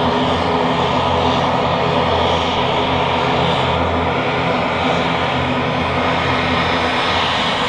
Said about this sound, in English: This is Aer Lingus Regional.